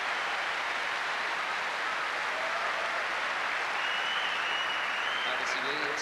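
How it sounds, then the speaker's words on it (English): A tennis crowd at the 2000 Australian Open final applauds Kafelnikov, a dense, steady wash of clapping from a large stadium audience, with faint voices in the mix. "And applause for Kafelnikov."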